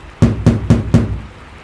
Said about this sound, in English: The knocking repeated.